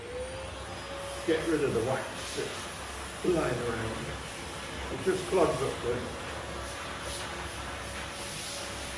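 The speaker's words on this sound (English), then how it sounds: "So I quickly vacuum, sorry about the noise" A vacuum cleaner sucks up loose wax residue during kitchen refurbishing, a steady moderate hiss running throughout beneath someone talking.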